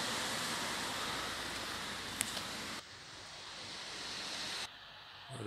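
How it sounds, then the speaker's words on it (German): Waterfall in the Lauterbrunnen valley, a continuous broad roaring rush of falling water with some wind buffeting, steady and fairly loud, with abrupt drops in level partway through and no voices. "Hier ist die Wasserfall."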